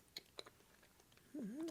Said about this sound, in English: Now I'm just chewing on what feels like wet cardboard with no flavor.